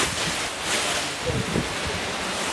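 A steady rushing blast of air from a low-cost air cooler roars continuously at close range, with a faint voice murmuring briefly underneath.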